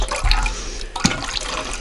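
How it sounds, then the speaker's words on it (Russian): Water is drained off hare meat that was cooked outdoors on a hunting trip in Yakutia. It makes a close, continuous splashing and gurgling pour with a few sharper drips. "Сейчас сливается вода."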